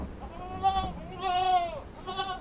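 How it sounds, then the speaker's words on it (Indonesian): Jawa Randu and Bligon female goats at a farm in Gunungkidul bleating, three drawn-out nasal bleats one after another, close and clear over a quiet background. "Ada lagi ini kambing-kambing"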